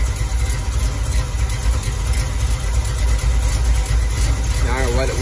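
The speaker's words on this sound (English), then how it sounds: "Now I'll let it warm up for a few minutes and just rev it just a tad bit." The rebuilt engine of a 1969 Ford F100 idles loudly and steadily at close range, with a constant low rumble and a brief change in tone near the end.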